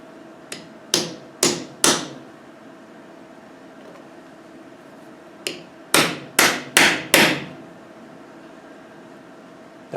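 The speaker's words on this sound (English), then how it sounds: "I'm going to tap it down with a socket." A socket is used to tap down a part on a Lucas wiper motor from a Land Rover, giving sharp metallic hits in two close bursts: about four taps, a pause, then about five more against a faint background hum.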